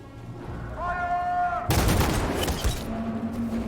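Bursts of gunfire in a video game about an AI uprising, a dense loud volley of shots lasting about a second after a brief tonal sound, with other game audio continuing underneath.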